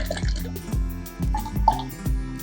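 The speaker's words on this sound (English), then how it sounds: "I think we're ready to go ahead and pour" A thick Nutella and apple ice cream base is poured into a container, giving irregular wet glugs and drips that repeat every half second or so, close and moderately loud with no talking.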